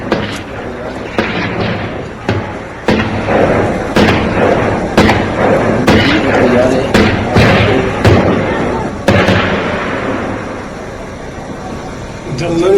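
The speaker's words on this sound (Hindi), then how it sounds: "बहुत देर तक फायरिंग होती रही, उसके बाद ग्रेनेड दागा है" Repeated sharp gunfire bursts and heavy thuds from grenade launcher fire ring out during a militant encounter, scattered across the scene with voices talking over the shooting.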